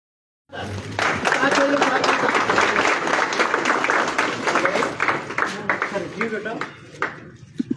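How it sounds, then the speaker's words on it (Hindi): Crowd applause at a formal teacher-student ceremony in Lahore, bursting in after a short silence, holding steady and loud for several seconds, then thinning to scattered claps at the end as voices talk over it. "आपकी स्पेशल तालियों में दावत दूंगा"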